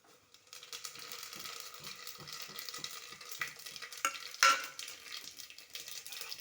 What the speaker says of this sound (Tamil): இப்போ பட்டையும் சோம்பையும் போட்டுக்கலாமுங்க